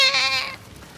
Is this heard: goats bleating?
yes